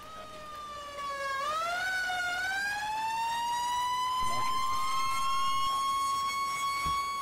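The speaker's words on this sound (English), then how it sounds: "That siren is really loud and annoying at the same time." A wailing siren from a 911 first responders game rises and sweeps in pitch, loud and sustained, with a couple of faint clicks underneath and no talking.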